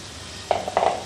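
Chicken and cabbage are stirred in a frying pan, a soft background sizzle broken by two short scraping strokes of the utensil.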